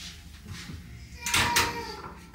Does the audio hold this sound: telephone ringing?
no